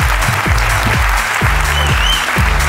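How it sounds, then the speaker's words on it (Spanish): Steady, loud audience applause fills a Spanish comedy podcast recording, dense clapping throughout with a low rhythmic thumping running underneath. "Aplauso para Pau Pau y su ruina,"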